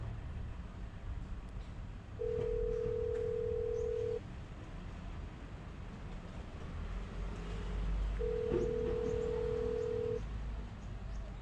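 Two long steady telephone ringback tones sound while a call is placed again to someone who is not answering, each tone lasting about two seconds with a gap between, over quiet background noise.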